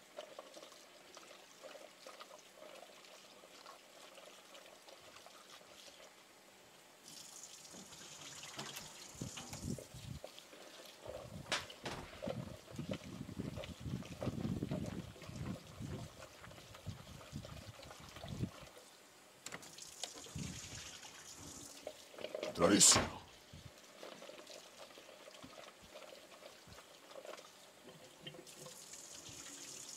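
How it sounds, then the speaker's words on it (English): Tap water runs steadily into a sink while potatoes are rinsed until the water runs clear, with splashing and pouring that swells in the middle and a sharp clatter near the end. "I'm just going to rinse these until the water runs clear."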